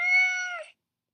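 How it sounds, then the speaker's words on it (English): A single clear cat meow used as a theatre sound effect, a close, loud drawn-out cry that cuts off abruptly, followed by silence. "here's someone with a cat meow"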